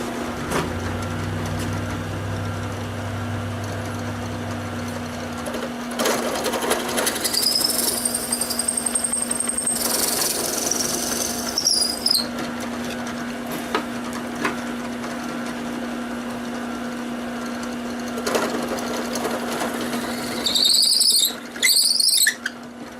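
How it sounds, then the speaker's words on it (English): A power drill boring a 13/32-inch hole halfway through a wooden wheel, a loud squealing whine that rises and holds for several seconds, then a short burst near the end. "So I'm going to drill this out to 13/32."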